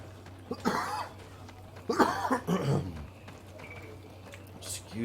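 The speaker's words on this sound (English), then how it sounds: "I'm sorry for all the coughing." A person with a cold coming on coughs in several loud, close bursts, with a low steady hum beneath, then quiet and a faint later sound.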